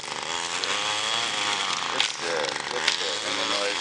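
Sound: string trimmer running against building

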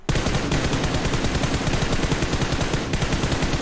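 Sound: gunfire in a video game

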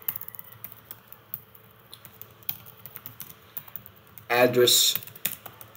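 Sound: typing a search query on a computer keyboard

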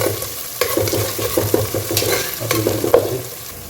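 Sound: onions being fried and stirred in a pan for cabbage potato poriyal

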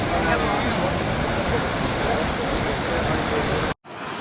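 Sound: canal water flowing

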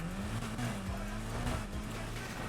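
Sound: car driving and jumping in the video game Need for Speed Heat

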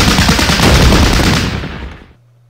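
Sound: suppressive gunfire in video game Battle Academy

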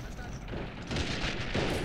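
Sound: artillery bombardment in video game Men of War: Assault Squad 2

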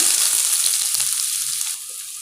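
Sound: onions sautéing in hot oil

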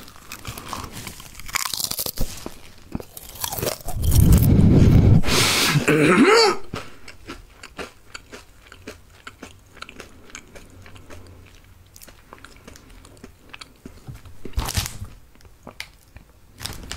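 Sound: chewing crunchy Koala's March biscuits, ASMR

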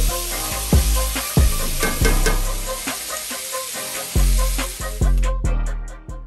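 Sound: chopped applewood smoked bacon frying in hot cast iron pan

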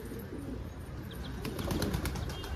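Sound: birds fluttering

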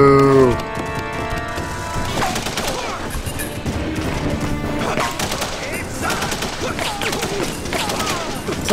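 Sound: gunfire in The Punisher video game

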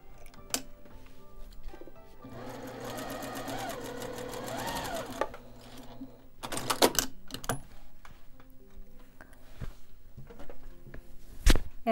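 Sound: sewing machine stitching fabric strips together

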